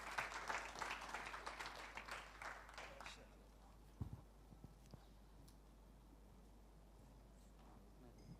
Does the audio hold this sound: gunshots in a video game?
no